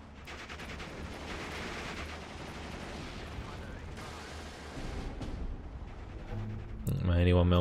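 Artillery fire in the wartime strategy video game Steel Division 2 catching an 81mm mortar team: muffled booms and crackling gunfire rolling steadily, swelling louder toward the end as a sharper burst cuts in.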